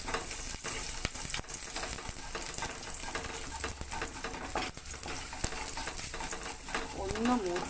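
Garlic frying in hot oil, a quiet steady sizzle with repeated scraping and tapping of a stirring utensil, plus a brief faint voice near the end.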